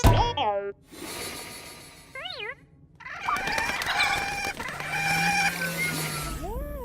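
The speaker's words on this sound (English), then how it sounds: "Do you want to hear the sound of BB-8 talking to Porgs?" Chirpy electronic droid bleeps and warbling whistles from BB-8 trading calls with squawking, bird-like Porg chatter, a Star Wars sound effect; loud, busy and layered, with rising and falling tones and clucking squeals throughout.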